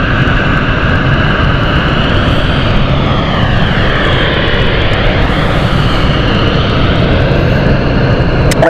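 A fixed-wing airliner on approach to London City Airport roars loudly and steadily, its engine drone holding strong throughout with a slight shifting whine as it passes close overhead.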